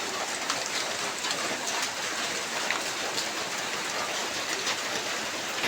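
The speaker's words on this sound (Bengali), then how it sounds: "সারাদিন বৃষ্টি, সারাদিন বৃষ্টি, একটুও বৃষ্টি থামার ইয়ে নেই।" Steady all-day rain falls outside a village kitchen, an even, continuous hiss of drops on surfaces that holds at a constant level from start to finish.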